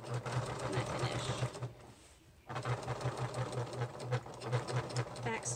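Sewing machine stitching the end piece of a fabric clutch, a steady close mechanical whir with a regular needle rhythm. It pauses briefly in the middle and then resumes.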